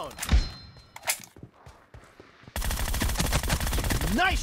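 Video game deathmatch gunfire: scattered shots and thuds at first, then a dense, loud burst of continuous automatic fire with a rising whine near the end.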